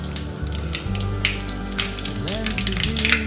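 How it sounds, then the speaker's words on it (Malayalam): Mustard seeds and fenugreek crackle and sputter in hot coconut oil with dense popping over a loud, continuous low hum and background music. "ചൂടായ എണ്ണയിലേക്ക് 1/2 ടേബിൾ സ്പൂൺ കടുക്, 2 പിഞ്ച് ഉലുവ"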